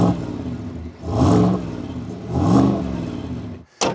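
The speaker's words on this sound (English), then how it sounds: "you definitely get that nice sound with that catback exhaust, and we'll put in a clip of it revving so you can hear just that" A 2025 Chevy Tahoe RST with a catback exhaust revs twice, each swell rising and falling in a deep throaty roar, close and loud, with a brief sharp burst right at the end.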